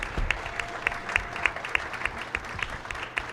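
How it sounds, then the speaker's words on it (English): An audience at the Big Pine Comedy Festival 2019 claps for an industry panel, a fairly soft, steady patter with sharper individual claps standing out, heard from a moderate distance without voices. "Let's give a round of applause for our panel."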